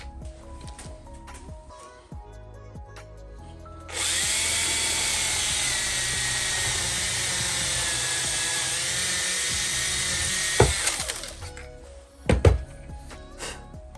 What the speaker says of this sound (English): I'm just going to drill a 4mm hole through there